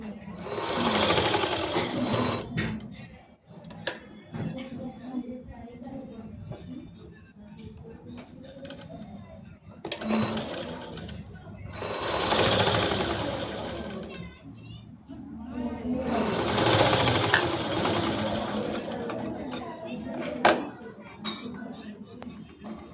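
A sewing machine stitches a boat neck top in bursts of fast whirring with pauses between runs, close and steady, while a voice talks over the stitching.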